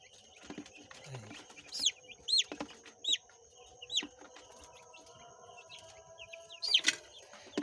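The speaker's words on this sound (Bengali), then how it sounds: "এই দেখুন, এই এক একটা মুরগি ধরে" Chickens at a farm, being caught one at a time for nasal vaccination, give scattered short clucks and squawks over a quiet background, several distinct calls spread through the stretch.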